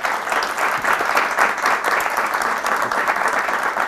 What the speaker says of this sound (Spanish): Él es Sergio Baliani, para quien pido un fuerte aplauso, por favor.